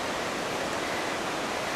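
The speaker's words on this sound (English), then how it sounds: "the creek that we have claimed and spend a lot of time on is right there" A creek on a gold claim flows with a steady, dense rushing hiss of water that stays even and continuous throughout, with no voices over it.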